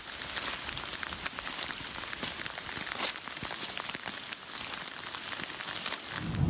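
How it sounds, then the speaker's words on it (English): Rain falls steadily on a river bank, a dense even patter of drops with scattered sharper taps, fairly quiet and continuous, with no voices. "it's starting to rain and looking like another wet afternoon"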